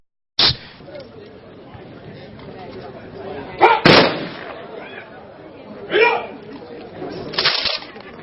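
Gun salute fired at a military remembrance ceremony honoring unknown soldiers, with several sharp blasts spaced irregularly, one loud pair near the middle and later bursts, over a steady murmur of crowd chatter and voices.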